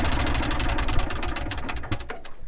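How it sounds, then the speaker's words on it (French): Engine of a 30-horsepower D30 tractor running steadily during a drive around a field, a continuous loud low rumble with a rattling, idling-like throb throughout, no voices. "le tracteur c'est un tracteur qui fait 30 chevaux"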